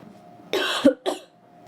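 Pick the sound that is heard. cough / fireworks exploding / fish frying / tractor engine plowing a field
cough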